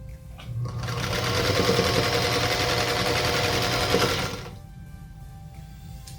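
Quilt block pieces for a combination star block are stitched on a sewing machine without pins, its motor whirring in one steady burst of about three seconds up close, then stopping.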